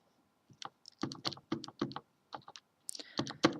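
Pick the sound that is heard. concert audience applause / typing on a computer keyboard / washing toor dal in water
typing on a computer keyboard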